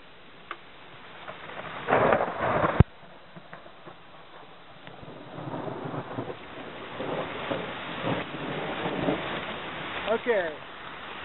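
A thunderstorm with rain and hail heard from inside a bus parked in a shop, with low rumbles, drumming on the roof, wind noise on the microphone and a person talking now and then.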